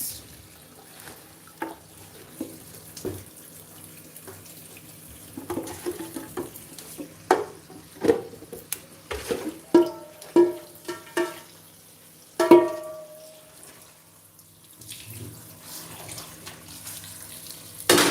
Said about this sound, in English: I'm just gonna wash it again one more time, just to make sure all the particles are out